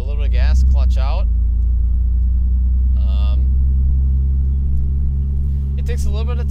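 A Jeep Wrangler TJ with a manual gearbox pulls away as the clutch is let out, its engine giving a loud, steady low rumble from inside the cabin, while a person speaks intermittently over it.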